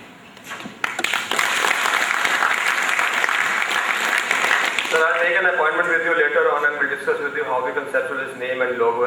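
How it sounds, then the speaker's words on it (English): Audience at a launch ceremony breaks into loud, sustained applause that holds steady for several seconds, then gives way to music or a voice carrying over the room. "give a big round of applause"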